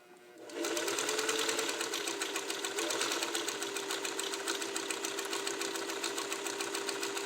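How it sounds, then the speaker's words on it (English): A Singer 301A Slant-O-Matic sewing machine, freshly serviced, starts up and runs steadily on a long stitch, a close, even mechanical whir with rapid rhythmic needle clatter and a faint sustained hum. "I want you to see this machine run, hear it run, and I'm going to start with my long stitch here."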